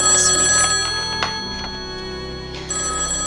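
A telephone bell ringing loudly in repeated bursts with short pauses between rings, alone and up close with no voices.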